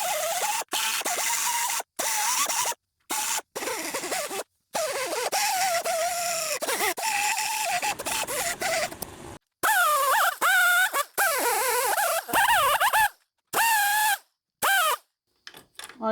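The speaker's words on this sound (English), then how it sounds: "grind this out with a burr" A burr grinding out a Jeep XJ Cherokee brake caliper knuckle, loud squealing and scratching bursts broken by short pauses, close up with no talk.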